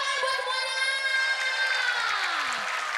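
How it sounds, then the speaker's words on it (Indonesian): A studio audience at an Indonesian comedy show cheers and applauds, a dense, steady roar of crowd noise with high whoops running through it for about three seconds. "Tepuk tangan buat semuanya."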